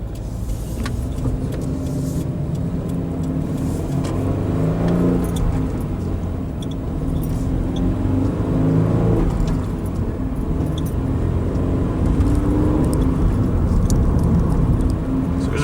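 Toyota 86 (ZN6) sports car fitted with an MTEC clutch spring, driving with a steady engine and road drone throughout, light cabin rattles and faint shifting sounds, no talking.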